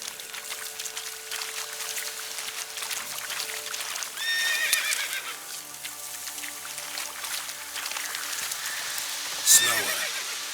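Roach, a horse in the video game Witcher 3, gives a loud whinny near the end of the clip over a steady background of rain and game ambience, after a quieter earlier stretch with faint hoof sounds.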